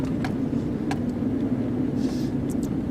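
Inside a junkyard Chevrolet TrailBlazer on coil springs, driving in 2-wheel drive over a rough ride: a steady, low road-and-engine rumble fills the cabin, with a few faint ticks and rattles on top.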